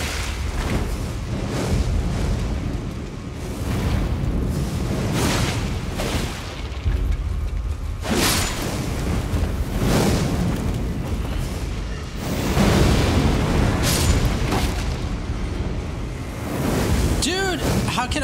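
Suicide-bombing enemies bursting in Elden Ring Shadow of the Erdtree inside Shadow Keep: repeated deep booming explosions every couple of seconds, loud and rumbling over a dense noisy game mix, with talk mixed in.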